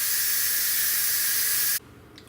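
An Instant Pot vents steam in a loud, steady close hiss that cuts off abruptly near the end, leaving quiet room tone.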